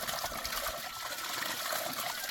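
Water runs and splashes steadily, a continuous hissing rush close by with no break.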